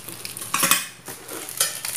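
Chopsticks unpacked from an online shopping haul and handled alongside bowls, giving light wooden and plastic clicks and rustles in short bursts, close by with no talking.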